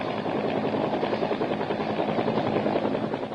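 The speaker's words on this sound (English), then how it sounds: "American and Vietnamese troops are loaded into troop-carrying Hueys." A Bell UH-1 Huey troop-carrying helicopter in Vietnam in 1967 gives off a loud, continuous rotor and turbine roar. The sound is steady and close throughout, with no voices.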